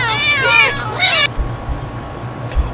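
Cats in a video game meow twice, loud and near, one call straight after the other. Then it goes quiet except for a few soft low thumps.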